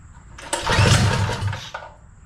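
A 212 Ghost go-kart engine catches close by with a loud burst, revs hard for about a second, then drops back toward a steadier, quieter idle.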